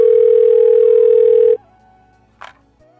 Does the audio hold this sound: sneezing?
no